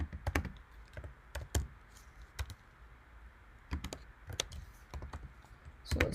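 Fingers typing on a computer keyboard close by, with sharp key clicks arriving in short uneven bursts separated by brief pauses, no voices.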